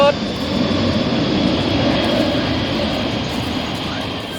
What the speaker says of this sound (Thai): เอปกติไม่บินทางนี้นะเครื่องบิน